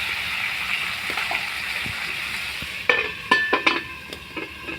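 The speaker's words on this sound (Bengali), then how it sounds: "আলুটাকে নেড়ে নেব, ভালো করে ভেজে নেব" Potatoes frying in a pan, a soft hiss that gives way to a run of clattering stirs and scrapes near the end, close and without talk.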